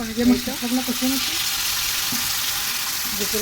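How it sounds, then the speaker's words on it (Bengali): Poha fish and potato pieces fry in a pan with a steady, close sizzling hiss throughout; a voice sounds briefly at the start. "পোহা মাছ দিয়ে আলু দিয়ে রান্না করতেছি"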